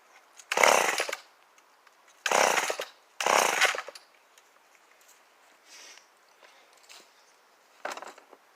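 An old Homelite XL12 chainsaw bursts into brief loud revving runs, three strong pulls near the start, then weaker sputters and one last short burst, with quiet gaps between as it fails to keep running.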